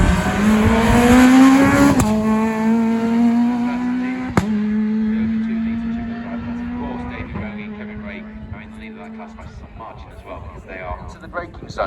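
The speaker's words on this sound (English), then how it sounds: "Goes through the gears." A rally car at the East Riding Stages Rally in February 2022 accelerates hard, its loud, near engine climbing in pitch, dropping sharply at each of several gear changes, then revving on again.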